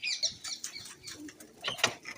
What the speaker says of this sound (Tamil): பாருங்கள் புறாக்கள்